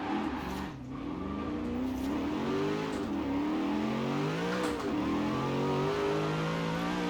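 Car engine in the video game Forza Horizon 4, revving and wailing with rising and falling pitch while drifting, continuous and loud with no talk over it.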